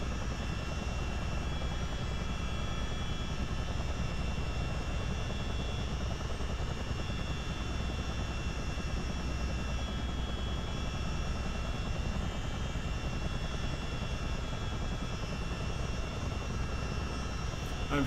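CH-47D Chinook helicopter taxiing on the ground in a flight game, its engines and rotors producing a steady, loud droning whine with constant whirring tones, unchanging throughout and with no voices.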